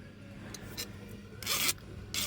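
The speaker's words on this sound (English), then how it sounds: "So smooth it down. Oh yeah, I'm just using a Stanley file, just off the shelf." Close, faint rasping strokes of a Stanley file smoothing the metal edge of a fork, a few short scrapes with a longer pass near the end in a quiet room.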